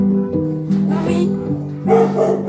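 Dogs at an animal shelter bark and yap loudly and close, in a run of overlapping excited barks and yips.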